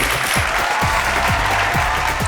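Studio audience applause welcomes the top 16 contestants in a studio round of the Odia junior television singing contest Odishara Nua Swara, a dense, steady wash of clapping that holds evenly throughout without a break.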